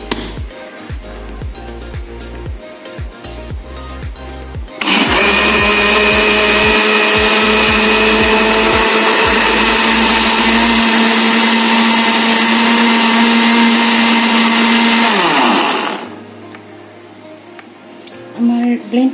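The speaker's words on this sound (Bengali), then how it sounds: "এবার আমি এটা ব্লেন্ড করে ফেলব।" An electric blender whirs loudly and steadily for about ten seconds, blending mango with sugar and milk, then winds down; kitchen handling noises come before and after.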